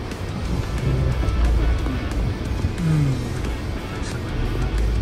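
A 2023 Maruti Suzuki Jimny rolls slowly downhill on an off-road event course in drive, its engine a steady low drone with rumble and faint tonal whine throughout, close and continuous.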